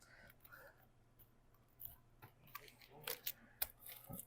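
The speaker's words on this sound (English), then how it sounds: "got our box cutting tool here, and hopefully we don't cut through anything" A box cutter slices open the shipping package of a Batman: The Killing Joke Avant-Garde Edition comic, giving scattered short, sharp scrapes and clicks. They are quiet at first and grow louder and denser toward the end, close by.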